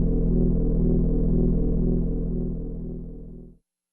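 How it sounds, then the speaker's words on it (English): An old, nasty synth bass patch played through a Roland GR-55 guitar synthesizer: one deep, throbbing sustained note with a pulsing buzz, loud and alone, fading out before stopping abruptly. "here's like a really old, nasty synth bass kind of sound"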